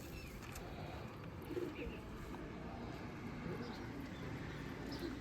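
Pigeons coo softly and repeatedly on a rooftop loft, faint and somewhat distant, partly under nearby voices talking.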